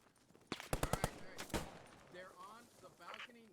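Machine gun fire in Post Scriptum, a World War II shooter: a quick string of about five loud shots followed by a single heavier report, with a voice talking over the tail.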